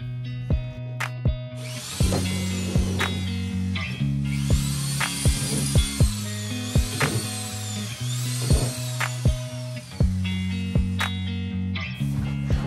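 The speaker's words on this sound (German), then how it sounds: "bohre ich jetzt einfach nochmal Löcher rein" A power drill whines loudly in steady bursts, its motor pitch rising and falling as it bores holes in a willow-look balcony planter, with brief pauses between runs.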